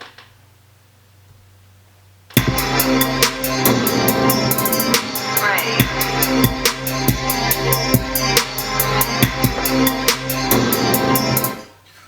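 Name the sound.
beat made on Maschine with Ninja Turtles sample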